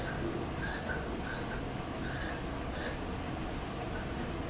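Scissors cut down the center of a fabric pocket lining in a short run of soft, rhythmic snips over a steady hushed background, close by.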